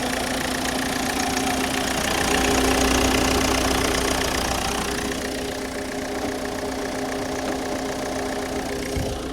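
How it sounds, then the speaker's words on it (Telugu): A 2015 Ford EcoSport Ambient diesel engine idles steadily at close range, a continuous even rumble with a faint rhythmic clatter throughout, no voices over it. "ఇంజన్ కూడా సైలెంట్ ఉంది"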